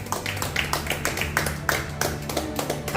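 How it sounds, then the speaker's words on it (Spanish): A church congregation claps together during a worship service, a steady run of rhythmic handclaps over a low background hum. "Denle un fuerte aplauso al Señor"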